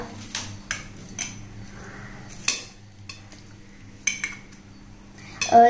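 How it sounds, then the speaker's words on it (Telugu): Two molds being greased with ghee (clarified butter) in a home kitchen, heard as sparse, sharp spoon-on-metal clinks and light scrapes over a quiet background hum. "I'm gonna grease these 2 molds"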